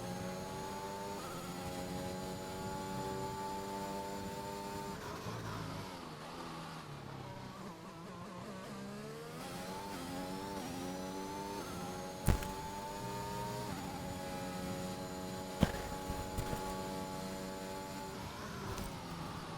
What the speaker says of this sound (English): NRM takes those turns very smoothly there in the McLaren.